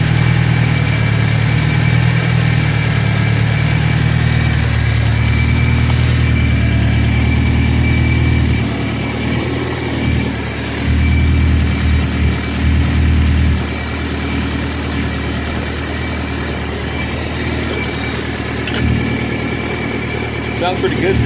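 A BMW E30 with a turbocharged M42 engine idles close by, a steady, loud low hum with a faint high whine that runs the whole time. The idle dips and shifts slightly midway while people talk over it.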